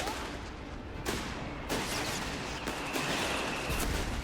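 Mortar shells from a Company of Heroes 3 match thump and burst at a distance among a constant rumble of battle, with a few sharp impacts spaced out across the background din.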